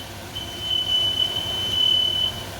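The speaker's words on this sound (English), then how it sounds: "I'm going to turn off the smoke alarms" A household smoke alarm beeps with a single sustained high-pitched tone lasting about two seconds, set off by charring broccoli in a chicken stir fry and sounding over quiet room noise.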